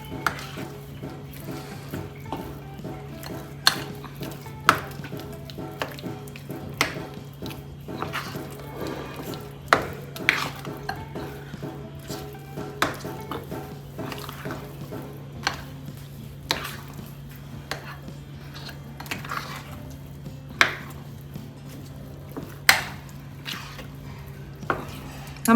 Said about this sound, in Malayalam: ഇനി ഇതെല്ലാം കൂടെ നല്ല ഒന്ന് മിക്സ് ചെയ്യേ